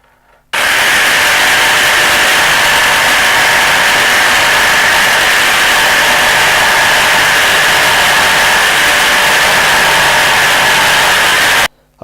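A jigsaw cuts along a scribed template line with a continuous, loud, even buzzing that starts abruptly and stops abruptly near the end, with no voices.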